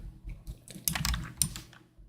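Loud mechanical computer keyboard clacking in quick, uneven bursts of keystrokes close up, with brief pauses between clusters, in a quiet room.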